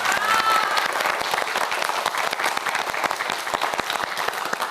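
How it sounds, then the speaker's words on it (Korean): A TV quiz-show studio audience breaks into sustained, dense applause, many hands clapping together at close range. "역시 강유연 학생을 위해서도 큰 박수 부탁드립니다"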